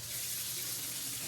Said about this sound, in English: I gotta wash my hands first